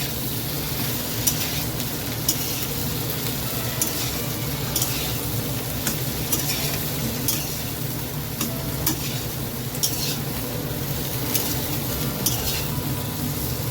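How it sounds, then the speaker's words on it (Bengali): Long strips of drumstick, potato, green banana, eggplant and papaya frying in oil, a continuous sizzle with occasional scrapes and stirring clinks from a utensil against the pan. "এগুলো দিয়ে ভালো করে ভেজে নেবো।"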